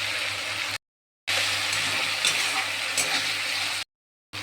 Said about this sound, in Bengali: এবার দিয়ে দেবো ভিজিয়ে রাখা ছোলাটা